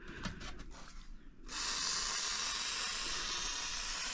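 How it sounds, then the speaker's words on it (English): Aerosol rust-protection spray hissing onto metal straps of machines stored in a rusting shipping container, a steady close hiss starting after a short muffled rustle and continuing without pause. "I always spray these straps quite a bit"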